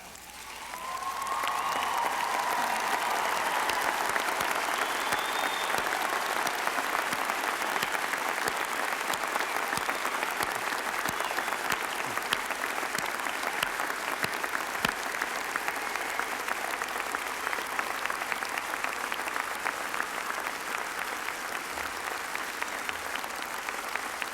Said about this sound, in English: we all stand up, everyone, including the graduates, and applaud the class of 1995